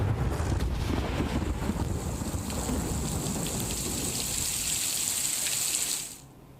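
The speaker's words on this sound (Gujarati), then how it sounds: "નડિયાદમાં પવન સાથે ધોધમાર વરસાદ વરસ્યો" Heavy downpour with strong wind in Nadiad, Kheda district, a dense steady roar of rain and gusting wind filling the scene, constant and loud until it cuts off abruptly near the end.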